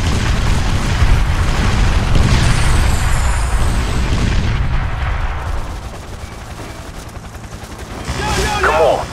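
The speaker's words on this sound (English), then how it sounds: "Rocket launcher!" Rocket launcher blasts and gunfire in the video game 50 Cent: Blood on the Sand, loud dense booms and crackling shots over the first half, easing off, then a fresh burst at the end, with game voices mixed in.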